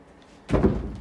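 A door in an abandoned office building swings and shuts with a solid thunk after a quiet moment, close and fairly loud, with no one talking.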